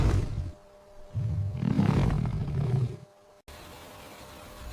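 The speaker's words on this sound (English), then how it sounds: "A lion's roar can be heard from 8 kilometers away" A lion roars in the wild, a deep, rough bellow coming in two swells, moderately loud and fairly close, followed by a quieter stretch of low background noise.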